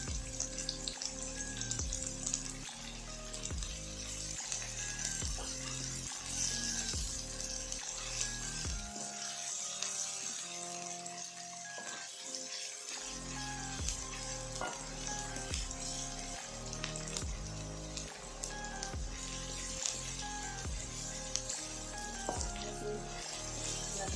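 Onions sizzle and fry steadily in a hot pan over medium heat, a continuous crackling hiss with no talking. A short quieter stretch breaks it near the middle before the frying comes back.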